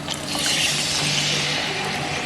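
Banana ketchup and vinegar sauce pours into a cooking pan, a close, continuous liquid trickle and splash lasting a couple of seconds without talk.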